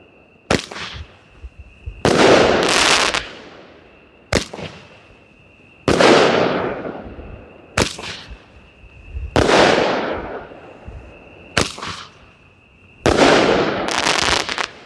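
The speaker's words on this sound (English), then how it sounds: "Okay, Big Fireworks." Roman candle fireworks fire in a series of sharp bangs and crackling bursts, each followed by a brief sizzle, close and loud, repeating irregularly with short gaps between shots.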